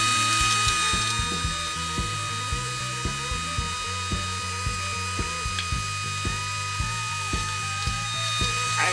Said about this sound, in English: I use my 6 horsepower shop vac. That's how I clean this thing out.